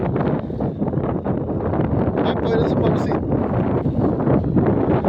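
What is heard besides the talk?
wind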